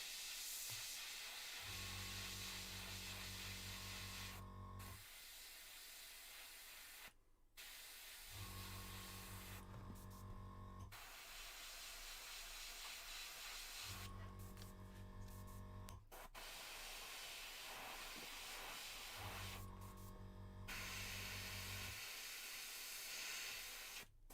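A faulty airbrush sprays paint in long steady hissing bursts of several seconds each, separated by short silent pauses, close and fairly quiet.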